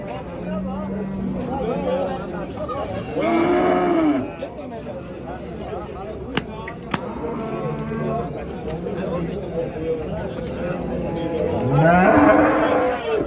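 Cows at a busy livestock market lowing loudly, with several long moos rising close by over a murmur of crowd talk and bargaining voices.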